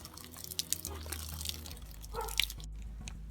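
Light, faint trickle and drip of water from a squeezed garden hose in a backyard, soft splashing and patters close by with no talk.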